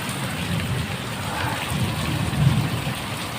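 Steady rain falls outdoors, a dense continuous hiss of drops with a low rumble rising briefly partway through, no voices.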